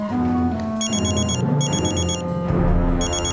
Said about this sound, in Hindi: हॉस्पिटल से फोन आया था